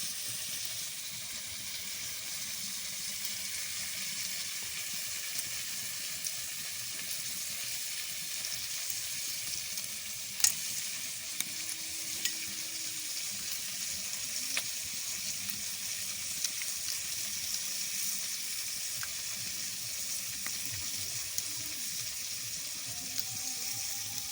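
Onion, tomato, ginger and garlic masala frying, a faint continuous hiss and sizzle with scattered soft clicks of stirring, no talk.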